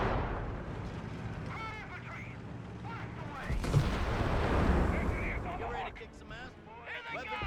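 Gunfire and artillery from a Company of Heroes 3 match, German Afrika Korps against US Forces, with .30 cal machine gun fire, a half-track and grenades: dense battle rumble and bursts running throughout, under steady commentary.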